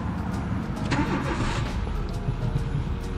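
A car engine cranks and starts on a new battery on a morning outside, then runs steadily at a loud, close idle with no talk.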